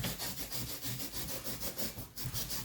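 Someone cuts and trims a cardboard packaging flap off a Yoder smoker box, making continuous close rasping and scraping strokes that briefly dip before resuming.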